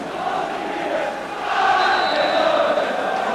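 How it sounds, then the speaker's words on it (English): Football crowd at a St Johnstone versus Kilmarnock match in 1993, greeting Kilmarnock as they come out for the second half, a broad, sustained roar of cheering that swells midway and stays loud. "what a great reception Kilmarnock got when they came out for the second half"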